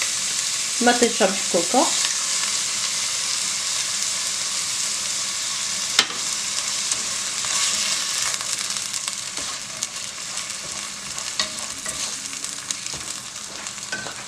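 Kefta meatballs fry in a pan with onion and carrots, making a steady, moderate sizzle throughout. A brief voice is heard near the start.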